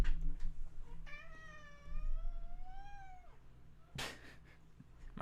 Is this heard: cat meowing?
yes